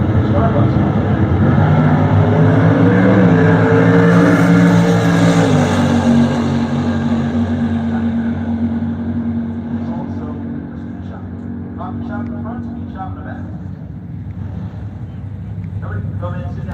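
A blue Plymouth Duster muscle car roars down a drag strip at about 142 mph, a loud sustained engine drone that swells and then fades as it passes, with crowd and voices mixed in.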